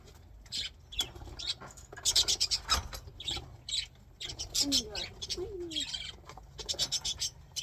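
Budgies chirp and chatter in an aviary of about 35 birds, with rapid, overlapping bright calls, fluttering and scuffling sounds, all nearby and continuous.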